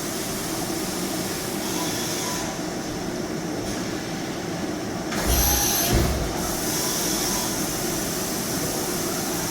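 A 2021 Doosan DNM 5700L CNC machining center with a 4th axis runs with through-spindle coolant, giving a steady loud machine hum and broadband spray hiss, with a brief louder whine surge midway.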